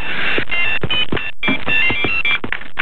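A mobile phone ringtone plays loudly and close, a bright repeating electronic melody with short pulsing notes and no voices.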